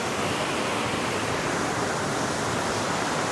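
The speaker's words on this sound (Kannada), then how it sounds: "ಈಗ ನೋಡ್ತಾ ಇರೋ ಈ ವಾಟರ್ ಫಾಲು ಇಲ್ಲಿಂದ ಎಲ್ಲ ಬರ್ತಿರೋದು" A natural waterfall on the Adam's Peak trek in Sri Lanka, fed from the surrounding hills, roars as a dense, constant rushing wash close by, unbroken and without voices.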